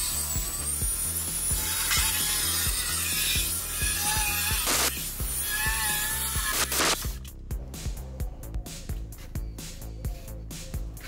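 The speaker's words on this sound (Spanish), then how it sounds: "Primeramente cortamos con la sierra circular con la técnica de la guía recta para que el corte sea lo más exacto posible." A circular saw runs along a straight guide through a hollow-core door, giving a loud continuous whine and grinding. After the cut it winds down into a series of rapid rattling clicks.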